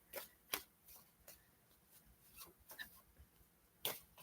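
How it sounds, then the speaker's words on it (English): Tarot cards are shuffled quietly, with soft riffling flicks and sharp taps at irregular intervals. "I'm just going to shuffle and wait."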